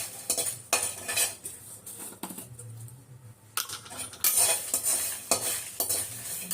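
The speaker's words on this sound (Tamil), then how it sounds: "எண்ணெயே போடாமல் எல்லாமே ட்ரை ரோஸ்ட் பண்ணுறேன் பாருங்க" Tamarind and garlic are dry roasted in a pan without oil, with bursts of rattling, scraping metal stirring and clinks separated by quiet gaps, close and fairly soft.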